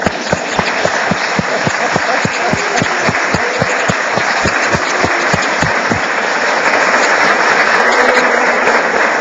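An audience at a lecture gathering claps for a long-serving volunteer, starting with a loud rhythmic beat of unison clapping that turns into a dense, sustained round of applause from a crowd in a hall.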